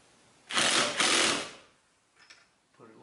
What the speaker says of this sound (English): I'm gonna take my rattle gun. My light one,